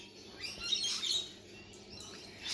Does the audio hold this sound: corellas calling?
yes